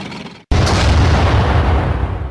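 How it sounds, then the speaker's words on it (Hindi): A cartoon tank blowing up a stone: after a brief silence, a sudden heavy explosion erupts and rumbles on loudly for about two seconds. "सुनो, उस पत्थर को टैंक से उड़ा दो।"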